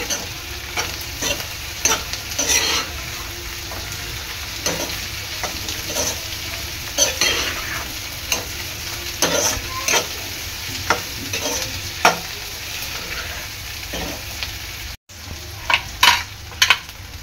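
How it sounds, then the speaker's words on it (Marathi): A spoon stirs a capsicum mixture in a pan over heat, with steady sizzling and repeated scraping strokes at a regular rhythm, close and fairly loud, with no talking. "मिश्रण चांगलं एकजीव करून शिजवून घ्यायचं आहे।"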